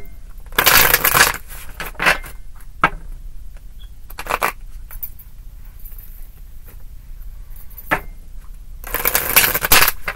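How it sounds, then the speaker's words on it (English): Tarot cards being shuffled by hand in a few separate bursts of riffling and slapping, close and crisp, with quiet gaps between the shuffles. "Two more shuffles for Gemini"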